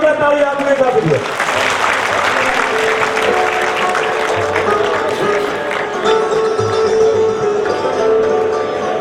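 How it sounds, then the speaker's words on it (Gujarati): Loud, sustained audience applause fills a hall at a retired employees' silver jubilee celebration, dense clapping holding steady throughout with faint background voices beneath. "અને હવે જોરદાર તાળી આપને આપી દો"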